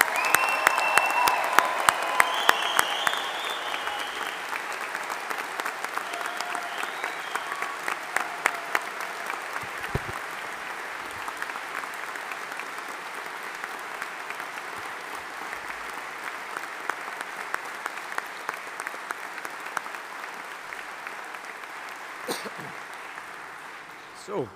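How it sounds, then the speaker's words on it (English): Audience applause fills a graduation ceremony hall for the Strathclyde Faculty of Science and Engineering class of 2025, a long steady wash of many hands clapping that starts loud and slowly thins toward the end, with faint voices at the start. "let's give the class of 2025 a big round of applause"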